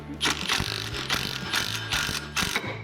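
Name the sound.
drive gear being pulled off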